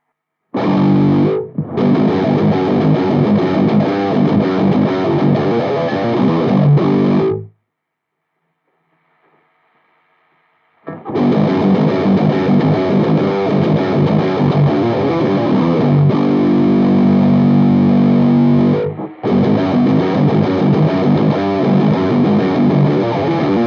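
A guitar amp with a boost effect engaged plays loud, distorted chords in two long bursts, separated by a brief near-silent pause, with no talking.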